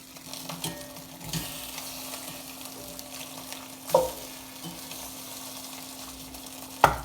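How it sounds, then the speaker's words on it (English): Vegetables searing in a pan for a roasted vegetable osso buco, a steady close sizzle with occasional stirring and two sharp utensil knocks against the pan, no one talking. "Sear it on the side."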